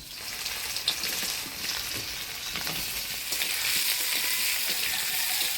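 Boiled potatoes frying in a pan with white cumin, dried red chilli and bay leaf give a steady close sizzle, with a few soft scrapes and stirring clicks and no talking.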